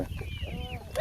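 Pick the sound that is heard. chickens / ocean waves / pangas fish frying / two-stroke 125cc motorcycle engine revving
chickens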